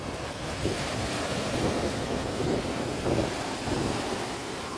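Continuous rushing of ocean surf at a river mouth with gusty wind across the microphone, swelling slightly as waves roll in.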